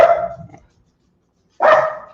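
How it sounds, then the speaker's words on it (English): A dog barks twice, a loud nearby bark followed after a pause by a second equally loud bark. "he's going outside to bark"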